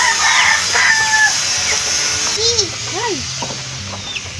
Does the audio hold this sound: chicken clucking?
yes